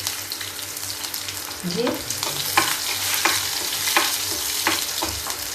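Garlic, red chillies and a little green chilli frying in hot oil give a steady, loud sizzle, broken by a few scraping stirs of a spoon in the pan, with a short word spoken over it.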